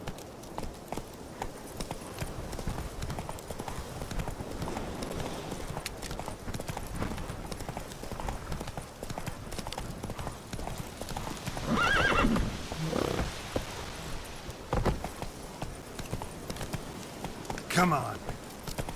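Roach, a horse in The Witcher 3, clip-clops along on hooves in a steady walking rhythm, with a whinny breaking in partway through and a voice occasionally speaking over the moving steps.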